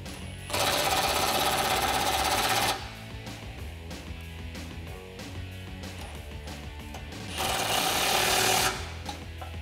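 Socket work on the mounting bolts of a Deegan 38 9,500 lb winch on a Jeep Wrangler, heard as two loud, buzzing mechanical bursts, one long and one shorter, with a quieter rattling stretch between them.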